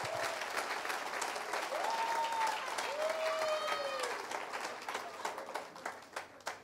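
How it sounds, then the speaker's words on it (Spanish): A church congregation claps during a sermon, a continuous wash of hands beating together while a voice calls out over it; moderately distant, thinning into scattered claps toward the end. "A su nombre, palmas al Señor."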